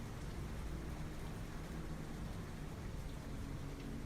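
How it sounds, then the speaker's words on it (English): Rain in Farming Simulator 25 falls as a steady, soft, low hiss, an even patter that holds at a constant level throughout with no voices. "if this rain doesn't stop"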